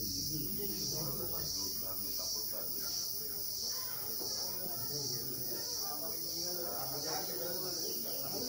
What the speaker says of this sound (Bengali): ওই ঝিঝি পোকার আওয়াজটা